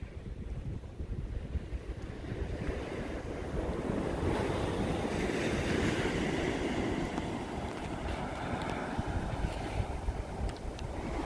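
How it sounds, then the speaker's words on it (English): Wind blows steadily on a boatyard pier by the sea, a loud continuous rush and buffeting on the microphone with surf washing underneath, no voices. "I have a little bit of wind out here this morning"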